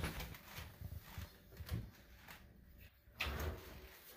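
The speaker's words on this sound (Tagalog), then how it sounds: "Yan, drawer." A drawer in a Tokyo hotel room sliding open or shut, soft rumbling scrapes and a muted knock, quiet and close.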